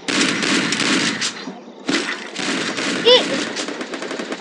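Rapid video-game gunfire landing headshots, crackling in dense bursts with a short pause partway through and a brief sharper shot near the end, with a voice faintly present underneath.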